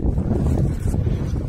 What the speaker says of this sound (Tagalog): Lakas kasi ng hangin dito